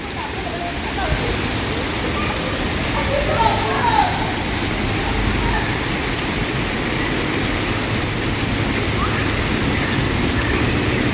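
Heavy rain falls steadily outside a building, a dense, continuous hiss and patter that stays loud and even throughout, with a faint low rumble of traffic underneath.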